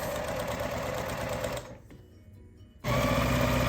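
A sewing machine chain piecing small quilt block pieces: a close, rapid, steady needle chatter that pauses for about a second between pieces and then resumes at full speed.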